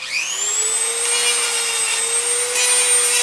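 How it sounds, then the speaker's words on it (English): A Dremel rotary tool grinds against a CD, giving a steady high whine with a constant pitch and a gritty, rasping hiss throughout, loud and close with no talking. "This is a Dremel."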